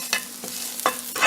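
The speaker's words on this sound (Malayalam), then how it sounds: "കായപ്പൊടി ഇട്ട് കൊടുത്തിട്ട് ജസ്റ്റ് ഒന്ന് ഇളക്കിയിട്ട്" Asafoetida powder stirred into hot oil for a Kerala moru curry: a few quick spoon scrapes against the pan over a faint steady sizzle, close and brief.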